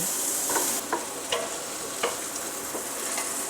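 Chopped onion gently softening in oil in a pan, a steady soft sizzle running throughout with a few faint clicks of a spoon stirring, fairly close and alone with no voices.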